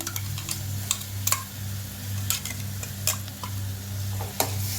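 Leftover rice being stirred in a pan with curry leaves, coriander, mint and green chillies, a soft continuous sizzle broken by sharp scattered scrapes and taps of the spoon against the pan.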